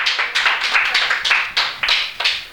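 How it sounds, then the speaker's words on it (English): A small audience at a nature journaling talk claps for a few seconds, with distinct, fairly close hand claps in an uneven rhythm rather than a thick roar. "So big round of applause for you guys"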